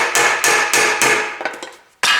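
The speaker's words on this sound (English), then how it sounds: "Now hammer carefully." A hammer strikes a knife blade to break the glued joint of a Ford Duratec engine's oil sump, five or six sharp metallic blows in a quick, even rhythm, each ringing briefly before fading.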